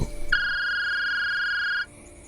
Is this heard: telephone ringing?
yes